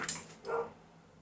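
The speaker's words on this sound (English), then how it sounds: "My dog's gonna bark now." A dog gives a couple of short barks outdoors by a creek, a sharp yip followed by a fuller bark, fairly close and alone.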